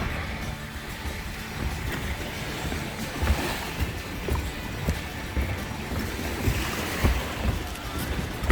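A speedboat sits on the water at a community dock on Boracay in the Philippines, heard as a rumbling engine mixed with lapping waves and gusts of wind noise, steady throughout.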